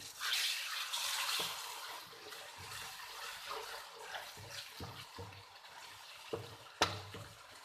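Water is splashed onto ground spices, including red chili, as they fry in a pan for a turnip dish, giving a quiet, fizzing hiss with a few soft clinks and bumps.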